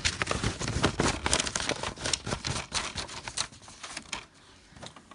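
A printer draws in a sheet of paper, giving a dense run of close, loud rustling and crinkling clicks that thin out toward the end.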